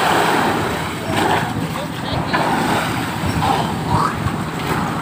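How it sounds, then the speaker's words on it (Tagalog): Big sea waves wash around a fishing boat off Occidental Mindoro, a continuous loud roar of surf with heavy wind buffeting the microphone throughout. "Malaki ang alon."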